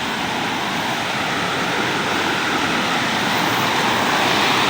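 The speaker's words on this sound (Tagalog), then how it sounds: "Sarap pakinggan ng buhos ng tubig." Heavy water pouring down a waterfall at Sitio Colacog, Ragay, a dense, continuous rushing roar, loud and close, with no break and no voices.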